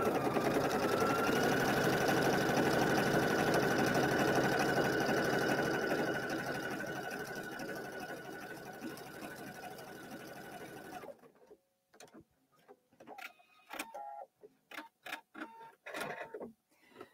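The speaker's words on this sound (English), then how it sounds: "So start by putting my needle down and stitch a little bit." A sewing machine stitches a quilt panel with an open-toe style foot, its motor whirring steadily and loudly up close for several seconds before slowing and stopping, followed by scattered light handling clicks.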